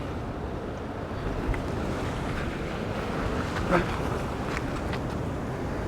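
Ocean waves surging against rocks at a Sydney rock fishing spot, a continuous broad wash of surf with gusty wind noise on the microphone, one slightly louder swell near the end.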